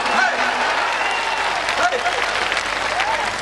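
Audience applause at a Hindi poetry gathering, a thick sustained round of clapping from a large crowd heard close and loud, with faint cheering voices mixed into the steady wash.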